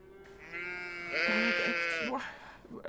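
A sheep in the farming game Agricultural Simulator: Historical Farming lets out a drawn-out, wavering bleat that swells in the middle, close and clear over faint background, with a voice briefly near the end.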